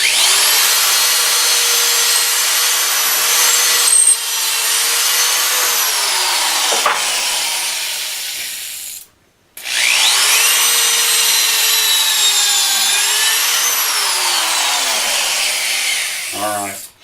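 Drill boring into hard walnut wood through a Big Gator drill guide, a loud sustained whine that dips in pitch under load, cuts out briefly partway, then resumes.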